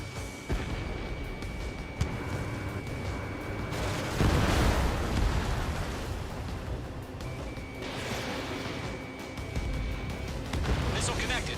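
In the jet combat game Ace Combat 7, a missile strikes an enemy aircraft with a rumbling explosive roar swelling midway through a dense bed of engine noise, with voices talking over the action.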